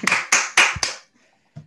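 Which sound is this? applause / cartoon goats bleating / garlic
applause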